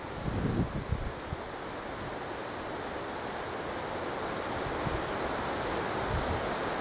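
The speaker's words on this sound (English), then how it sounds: "Every tree, when a bit of wind comes through, makes a different sound." Wind rushing steadily through trees in the woods near a cabin, a broad, continuous whooshing roar that holds at an even level throughout, with a few low rumbling gusts at the start.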